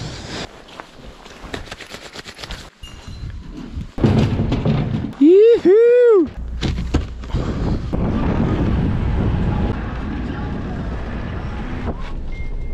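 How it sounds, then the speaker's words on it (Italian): Strong wind roars across a snowy mountainside at altitude, where avalanche risk has closed the upper ski lifts. It buffets the microphone in a loud, continuous rush with heavier gusts, and a brief whistling tone rises midway. "sto in quota, c'è vento"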